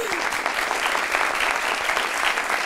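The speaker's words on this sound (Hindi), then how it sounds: "सिराज भाई के लिए तालियां" Studio audience on a television talk show applauding, a thick, loud burst of clapping sustained evenly across the moment.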